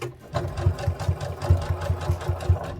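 A sewing machine runs slowly on a teddy bear seam at a short stitch length, its needle thumping in an even, close rhythm of about three beats per second, with no voices.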